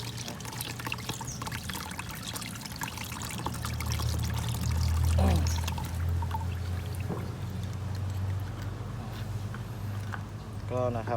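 Water pours and splashes steadily while something is being washed, a continuous running stream with a lower rumble under it and someone talking briefly over it.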